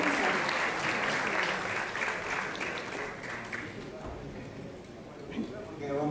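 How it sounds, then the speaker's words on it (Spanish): Audience applause at a Peruvian music awards ceremony, a dense steady wash of clapping that fills the room, tapering slightly toward the end with a voice faintly audible beneath. "Un fuerte aplauso"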